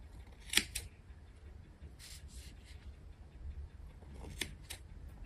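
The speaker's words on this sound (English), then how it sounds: "we're going to use some sharp sewing scissors, and we're going to cut very carefully" Sharp sewing scissors snip several times through two layers of wool, quiet and close, with soft rustling of fabric between the cuts.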